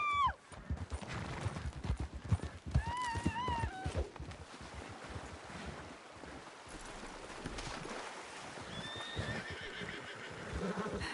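Horses whinny in rising, wavering calls over busy hoofbeats and clattering movement, close by and fairly loud throughout, in the video game Red Dead Redemption 2.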